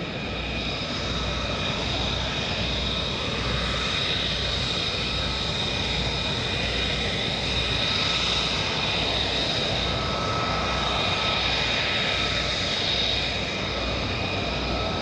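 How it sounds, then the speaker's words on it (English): A Boeing KC-135 tanker of the Alaska 160th Air Refueling Wing touches down at an airshow at Eielson Air Force Base, its jet engines a loud, steady roar with a whine that holds throughout. "the Alaska KC-135 touching down from the 160th Air Refueling Wing"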